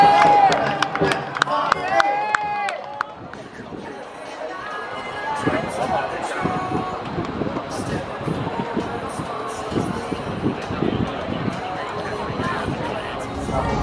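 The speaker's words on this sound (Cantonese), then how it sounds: "我哋俾啲掌聲鼓勵我先" A crowd at a youth football cup match claps and cheers amid excited talk and shouting, with scattered hand claps and bursts of noise continuing over a busy, lively background.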